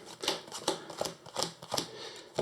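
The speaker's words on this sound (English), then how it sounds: "Just giving the last quick shuffle" A deck of cards for the Arkham Horror card game being riffled in a quick shuffle, a string of short, crisp rattling bursts close up and fairly quiet.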